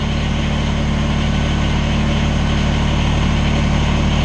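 A Kubota BX23S compact tractor engine idles at low speed, a steady near diesel drone with a constant low hum and no talk over it.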